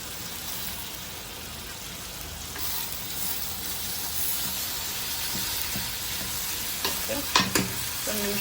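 Washed gongura leaves stir-fry in a dry prawn curry, with a continuous close sizzle and hiss and a few louder stirring scrapes and clanks toward the end, with no talking.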